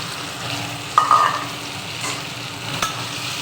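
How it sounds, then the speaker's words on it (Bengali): Potatoes frying in oil left over from frying paneer: a soft steady sizzle with a brief metallic scrape or clink early on and a faint tap later, close by, no voices. "এই তেলটা যে আছে এটার মধ্যে আমি আলুটা ভেজে নিব।"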